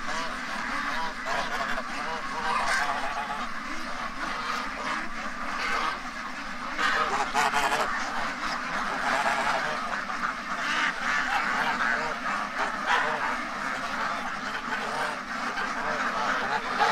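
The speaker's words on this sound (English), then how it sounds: "that's a mess of ducks, Strawberry." A flock of ducks quacks continuously and loudly at close range, a dense overlapping chorus of calls with no pauses.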